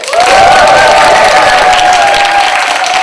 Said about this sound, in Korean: 열렬한 박수로 서로 환영해 주세요.